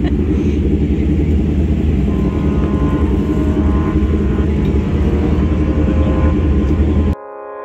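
A race car, the NQ73, is driven hard around Archerfield Speedway, its engine roaring loud and close in one unbroken, heavy drone that cuts off abruptly near the end.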